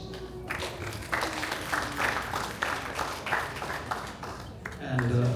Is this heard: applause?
yes